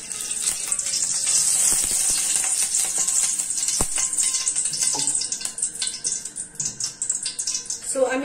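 Ghee and mustard oil heat in a steel kadai with a bright, steady sizzle, close and fairly loud, with a few clinks and scrapes and a voice speaking over it.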